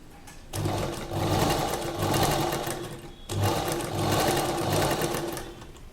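Sewing machine stitching a colourful neck design, running loud and close in two long rhythmic bursts with a brief stop between them.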